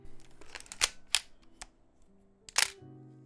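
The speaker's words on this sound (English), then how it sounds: "The winder is the smoothest winder I have ever felt, and it sounds really cool. Just listen to the sound of this camera." A Nikon F3 film camera with a slightly broken shutter gives several sharp mechanical clicks and winder ratchets, spaced irregularly across a few seconds, close and crisp against a quiet background.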